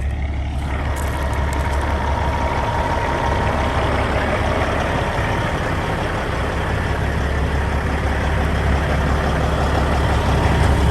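An old truck, found sitting in a field, idles steadily with a deep, constant engine rumble, loud and close, holding the same level throughout.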